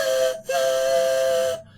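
A beatboxer imitates a train whistle by mixing a head voice with an exhaled mouth whistle, producing two sustained, bright, steady whistle tones split by a brief gap, close and loud.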